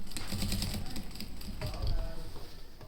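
A sewing machine runs a double line of stitching along the edge of a piece of cloth. Its quick, soft mechanical patter is faint and comes in short bursts with brief pauses.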